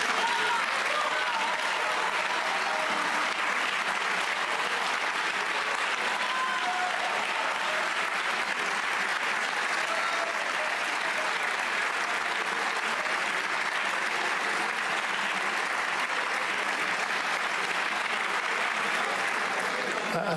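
Sustained applause from a large audience in the French Senate, a dense, even wash of clapping lasting the whole stretch without a break, with faint voices mixed in.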